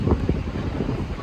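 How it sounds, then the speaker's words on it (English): Wind on a lakeside beach at Cedar Point, gusting hard straight into the microphone as loud, low buffeting rumble with uneven surges and no clear voices. "It is really windy on this beach"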